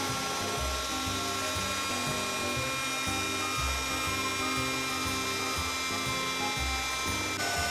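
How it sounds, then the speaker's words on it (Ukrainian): An electric mixer whipping eggs at low speed for a cake, a steady close mechanical whirring with a rhythmic ratcheting clatter that runs throughout, no talking. "Починаємо збивати на малої швидкості, а потім збільшуємо та поступово додаємо цукор."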